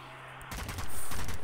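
A burst of rapid gunfire in the video game Zombie Army erupts after a brief quiet moment, loud and sustained, sounding like automatic weapon fire.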